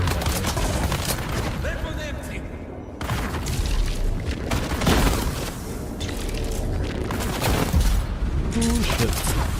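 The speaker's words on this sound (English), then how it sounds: "Friendly fire." Dense, continuous gunfire and booming explosions from a firefight in the video game Dune: Awakening, loud and close, with bursts layered over one another and voices talking throughout.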